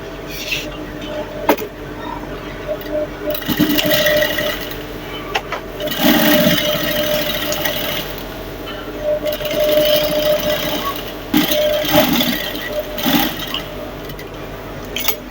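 Sewing machine stitching along a trouser waistband for a jumpsuit, a steady mechanical whir that runs in bursts with short pauses in between, fairly loud and close.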